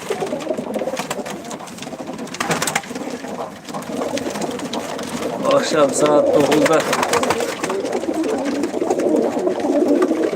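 Pigeons coo in soft, repeated rolling calls close by, mixed with a person speaking and some clattering.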